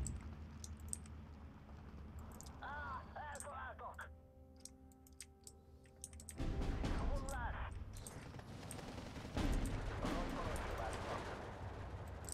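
Artillery batteries firing in the WWII strategy game Steel Division II, on a Hungarian campaign at Turda: dull booms and crackling impacts recur through a busy battle soundscape, with a louder burst of fire midway and a speaking voice at times.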